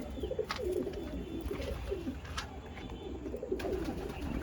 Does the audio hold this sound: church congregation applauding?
no